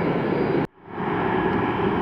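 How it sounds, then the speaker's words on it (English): Loud roar of a Boeing 767 airliner at Atlanta Hartsfield airport, steady broadband engine noise that briefly drops out and then swells back to a sustained rush. "It's a 767."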